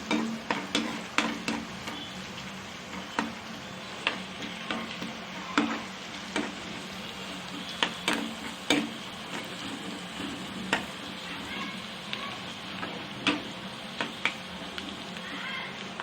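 Crushed garlic frying in a pan for a potato dish, a soft continuous sizzle broken by regular scraping, tapping stirs of a spoon against the pan.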